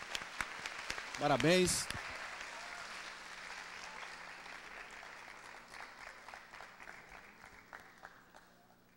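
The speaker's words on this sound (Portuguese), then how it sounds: "Uma salva de palmas para os colegas." Auditorium audience applauding colleagues, a brief burst of clapping that tapers into scattered claps, with a voice speaking over it early on.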